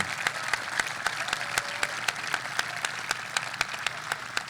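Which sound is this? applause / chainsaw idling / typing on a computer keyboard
applause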